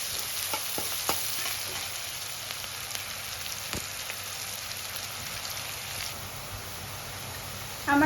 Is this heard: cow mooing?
no